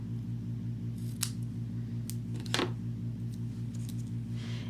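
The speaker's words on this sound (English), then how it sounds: "I need to cut this one and cut this off" A few crisp snips of scissors cutting cardstock for handmade card making, close and short, spaced apart over a steady mechanical hum.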